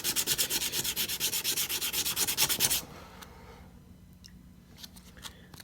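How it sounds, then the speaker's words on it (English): A stubby is hand-sanded to an even scratch pattern, rapid rhythmic back-and-forth scraping strokes, loud and close, that stop abruptly about halfway, leaving faint handling noises. "we're just gonna sand. And what we're looking for is an even scratch pattern."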